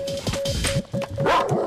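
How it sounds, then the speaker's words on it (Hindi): A dog barks several times in a dramatic scene from a Hindi-dubbed South Indian film, the sharp barks repeating over a sustained tonal music note, with no talk. "तू डरना मत, कुत्ता ही तो है"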